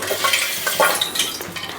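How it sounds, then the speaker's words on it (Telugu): Ginger paste sizzling in hot oil in a pot while a fish curry is being cooked, with close, steady frying crackle and brief scrapes of stirring throughout. "అల్లం పేస్ట్ నూనెలో"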